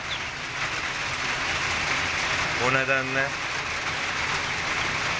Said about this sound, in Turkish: Bayağı bir yağmur var şu anda.